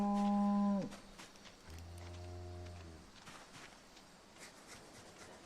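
Cattle in a scrap-metal-armor video game moo close by, with one loud moo at the start and a lower, longer moo a second later, over quiet rustling ambience.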